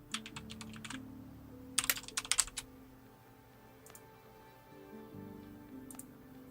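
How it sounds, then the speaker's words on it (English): Computer keyboard keys clicking in short bursts, a few quick clusters of taps and isolated presses, close and crisp over a faint background hum. "I have to literally hit delete, not backspace"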